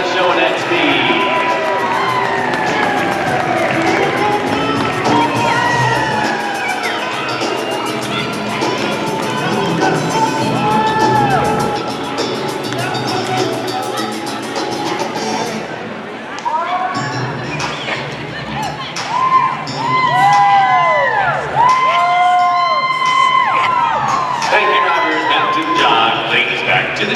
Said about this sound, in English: Make some noise, and now is that time. Let's cheer them on as they drive on.